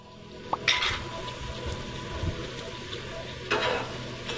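Spices and yogurt fry in a pan for bhindi masala, giving a continuous low sizzle with a few clinks and scrapes from stirring, close by.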